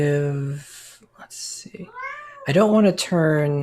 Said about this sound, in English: She makes a really good meow.